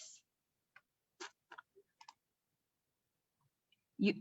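Computer mouse clicks, sharp and isolated, in a quiet room: several faint single clicks spaced irregularly, then one louder click at the end.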